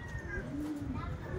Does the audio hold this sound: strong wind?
no